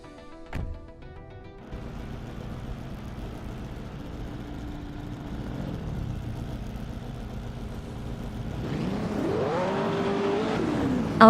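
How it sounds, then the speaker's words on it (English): Race cars at the Lausitzring GP, led by a 1962 Triumph TR3B: a steady engine drone that builds louder and climbs in pitch with rising revs near the end, preceded by a brief clunk. "the race is underway at Lausitzring GP, and leading the pack is the classic 1962 Triumph T R3B, zooming ahead in pole position."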